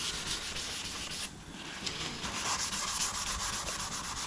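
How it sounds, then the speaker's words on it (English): A car's smart repair area is sanded down by hand, giving a continuous close scratchy rubbing with rhythmic back-and-forth strokes and a brief pause midway. "it will just easily sand down now, so just"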